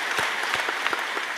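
An audience at a devotional kirtan discourse claps together in a steady, dense round of applause that fills the room evenly.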